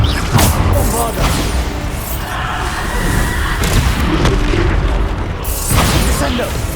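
Bombarda blasting spell explosions in Hogwarts Legacy: loud, dense booming bursts follow one another in quick succession, close and overlapping, amid battle noise.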